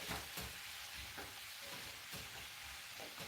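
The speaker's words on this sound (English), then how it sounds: "And you can hear that little sizzle, right?" Vegetables sauteing in a pan for a veggie medley, giving a steady broadband sizzle with occasional clatters as they are stirred, close and moderately loud with no talk.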